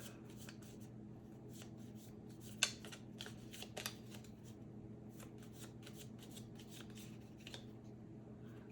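A tiny deck of cards for the Harry Potter Hogwarts Battle board game being shuffled by hand, with soft continuous riffling and rubbing and a few sharper flicks, close and quiet over a low steady hum.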